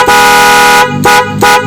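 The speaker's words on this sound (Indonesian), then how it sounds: "kita akan coba tes klakson Denso nya" A Denso snail horn on a 2020 Yamaha NMAX scooter blares loudly at close range, one long bassy honk followed by two shorter toots, with no talking.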